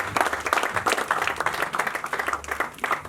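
A church congregation applauding the Lord during a sermon, many hands clapping together in a dense, rhythmic burst, fairly close and loud.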